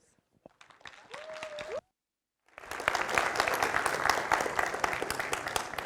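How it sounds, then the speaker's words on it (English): A conference audience at code::dive 2023 breaks into a loud, dense round of applause welcoming a speaker on stage. A few scattered claps and a brief pause come first, then sustained clapping fills the rest. "Let's welcome Maciej on stage with a big round of applause."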